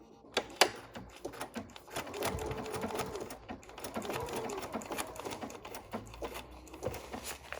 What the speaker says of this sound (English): I have my machine set to my normal blanket stitch that I like.